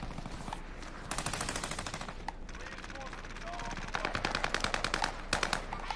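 Automatic gunfire in the video game Warzone crackles in rapid bursts, some sustained and some clipped, fairly close, with a few single shots between volleys and faint game ambience underneath.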